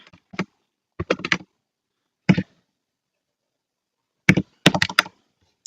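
A password is typed on a computer keyboard in short, close bursts of crisp key clicks separated by pauses.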